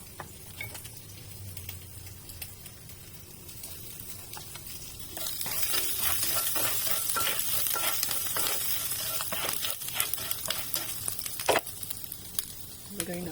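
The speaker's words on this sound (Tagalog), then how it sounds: "Stir-fried ginger." Chopped ginger stir-frying in olive oil in a pan, a steady close sizzle with scraping and tapping of a utensil against the pan, growing livelier after a few seconds.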